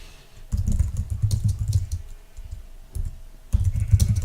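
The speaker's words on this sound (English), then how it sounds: "I'm really bad at typing and commenting at the same time" Keys clatter on a computer keyboard in quick, close bursts of typing separated by short pauses, loud and crisp with no talk.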